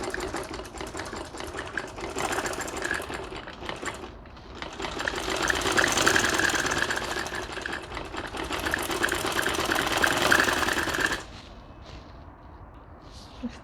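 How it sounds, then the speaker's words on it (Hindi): Sewing machine stitching dori piping onto the edge of a kameez, a steady fast mechanical whir running in two long bursts with a brief slowdown between, then stopping near the end. "इस तरह से स्टिचिंग करें ताकि डोरी के ऊपर आपकी सुई की स्टिचिंग ना जाए।"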